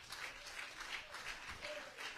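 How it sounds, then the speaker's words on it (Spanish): A church congregation claps together as an offering of applause, steady fast clapping at moderate distance, continuous across the moment with no talking. "Y una ofrenda de palmas al Rey."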